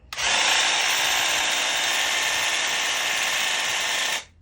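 A steady, loud hiss from a Graco Ultra cordless airless handheld paint sprayer runs continuously for about four seconds, starting and stopping abruptly, with no voices.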